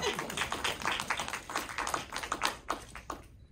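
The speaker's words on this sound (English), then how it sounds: "Yeah, we can clap for that too." Scattered hand claps from a small audience at a documentary panel discussion, quick irregular bursts that fade toward the end.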